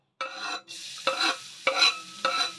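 Garlic sautéed in olive oil in a pan, four bursts of loud close sizzling as it is stirred and tossed, separated by brief quieter gaps.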